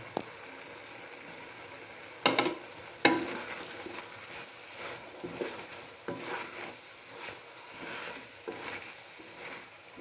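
Chopped cabbage and bell peppers stir-frying in a pan for egg fried rice, a steady close sizzle with sharp scraping clatters of a spatula against the pan.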